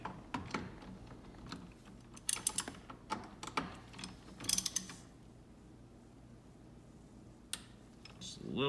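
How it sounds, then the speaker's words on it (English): Wrench snugging up bolts on a Genesis Coupe carbon fiber steering wheel trim, a few quiet metallic clicks and ratcheting taps in short clusters, close and faint. "I like to just snug these up a little bit with a wrench"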